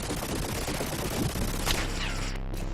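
Rapid gunfire bursts in the video game CoinOp Story, dense automatic fire clattering loudly throughout, with a sharper shot ringing out near the end.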